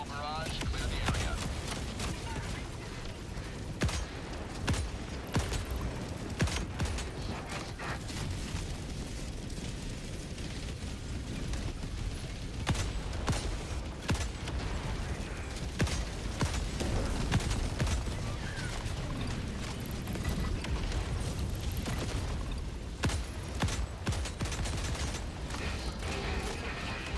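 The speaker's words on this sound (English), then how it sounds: "Firing orbital barrage." Orbital barrage bombardment in a video game: a continuous stream of heavy, thudding explosions and crackling impacts over nearly half a minute, dense and unrelenting, with game noise throughout.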